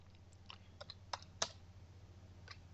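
Sparse keystrokes on a computer keyboard while coding in RStudio, a handful of crisp, irregular clicks over a low electrical hum in a quiet room.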